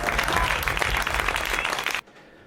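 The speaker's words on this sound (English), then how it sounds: "Oh, where's my applause?" A canned applause sound effect plays on a podcast: a full crowd clapping for about two seconds, then cutting off abruptly into near silence.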